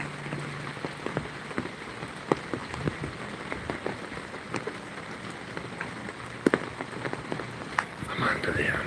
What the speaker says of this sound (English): I better be quiet again so you can hear this rain.